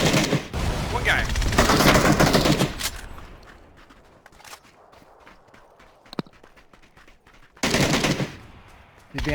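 Bursts of gunfire in a battle royale video game, with a loud rapid volley at the start, quieter movement and scattered single shots, then another heavy burst near the end.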